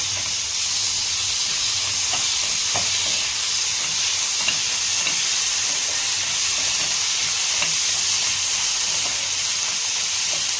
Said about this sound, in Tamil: ஸோ இப்போ நல்லா மிக்ஸ் பண்ணிக்கலாம்.